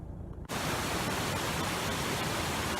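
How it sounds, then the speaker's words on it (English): Rushing water near Gibson Mill, Hebden Bridge, surges in abruptly as a dense, steady, loud hiss of flow close by, continuing unbroken to the end. "there's quite a lot of rushing water behind me"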